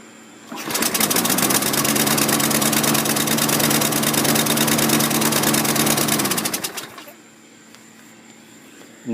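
A 2012 lawn mower engine runs loud and steady with its air filter removed, a dense rattling drone that holds for about six seconds before cutting off abruptly and fading to quiet.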